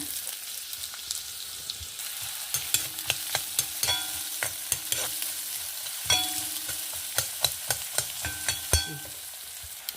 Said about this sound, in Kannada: ಒಂಚೂರು ತುಪ್ಪ ಹಾಕಂತ ಇದ್ದೆ ಒಂಚೂರು ನೀರುಳ್ಳಿ ಹಾಕಂಬ